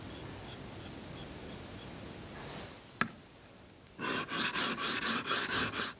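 Rhythmic scraping strokes of a knife blade drawn across a diamond sharpening stone, a steady rasping series after a sharp tap, close and clear.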